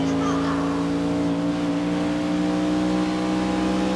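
Race car engine in the GRID (2019) racing video game on the Indianapolis circuit, a loud, sustained, tonal drone at nearly constant revs throughout, close and unbroken.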